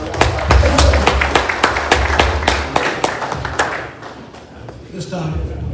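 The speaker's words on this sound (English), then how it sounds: "That deserve a hand clap," Hand clapping from a crowd at a live church broadcast, a steady run of sharp claps over a bed of voices, fading somewhat toward the end.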